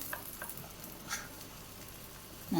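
A Spanish omelette of egg, potato and onion fries in a pan and is gently stirred, giving a faint, soft sizzle with light scraping touches and no voices.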